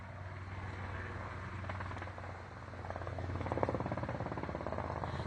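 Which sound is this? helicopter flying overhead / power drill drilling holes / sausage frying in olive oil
helicopter flying overhead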